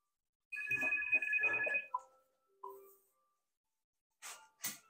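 A landline telephone rings with a sustained electronic trill, followed by shorter chirps and a couple of brief clicks or bursts after pauses, heard alone in a quiet room.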